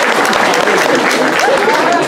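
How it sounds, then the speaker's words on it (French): Audience applause at a Harley Quinn cosplay contest at Jap and Co 2016, a steady dense wash of clapping from a crowd with voices mixed in throughout. "Applaudissez-la bien fort."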